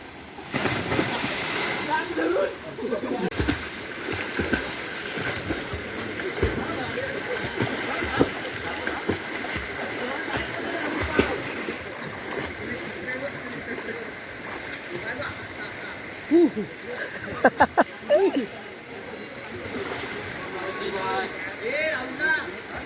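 People swim in a clear river in the Konkan region, with a continuous wash of flowing water, irregular splashes and sloshing throughout, and people talking and calling out nearby.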